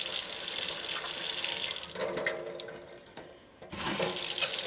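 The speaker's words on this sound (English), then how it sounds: "Okay, there's the cold water." Cold water rushes steadily from a newly installed Delta kitchen faucet into the sink, a close, loud hiss that briefly dips and then resumes at full flow.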